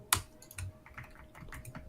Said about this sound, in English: My keyboard hates me. It does not want me to type.